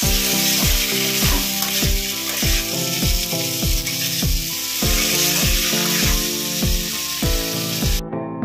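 Mutton sautés with sour yogurt and spices in a sizzling pan, a loud continuous fry with regular rhythmic scraping strokes of stirring, about two per second, ending abruptly.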